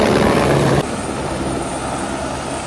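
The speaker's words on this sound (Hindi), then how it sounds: "हम हेलीपैड के पास जा रहे हैं, अभी ये हेलीकॉप्टर भी उठ रहा है यहाँ।" Helicopter lifting off from a helipad in the mountains, close by and loud, a steady rotor roar and engine whine that drops slightly in level partway through, with no voices.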